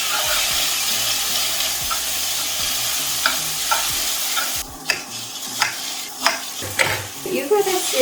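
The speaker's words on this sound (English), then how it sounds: "Stir fry it up." Glass noodles stir-fried in a pan give a loud, continuous sizzle that thins partway through, then brief spatula scrapes and taps against the pan.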